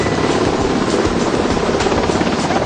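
Navy helicopters fly close by near the Indian aircraft carrier INS Vikramaditya, a loud, steady rotor roar filling the air without a break.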